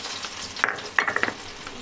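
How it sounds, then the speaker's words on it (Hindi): Cumin seeds, ginger and garlic frying in hot mustard oil, a soft steady sizzle with a few brief louder crackles and stirring scrapes in the middle, close and alone. "ये मैंने सरसों का तेल डाला है, 1 चम्मच में जीरा डाला है, ये अदरक,"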